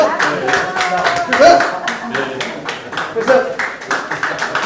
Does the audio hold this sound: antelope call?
no